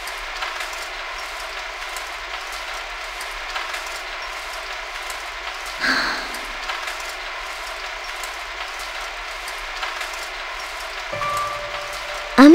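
Steady rain falls in a scene from the video game Sakura Taisen 3, a continuous hiss with a brief swell midway and a sharp sound at the very end, heard alone without voices.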